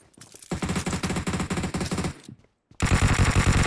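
Rapid automatic gunfire in the battle royale game PUBG Mobile rattles out in two loud, close bursts, split by a brief silent pause.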